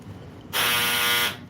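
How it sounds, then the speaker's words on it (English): A clothes dryer's end-of-cycle buzzer sounds once, a loud, steady electronic tone lasting under a second against a quiet room. "I guess my dryer's done."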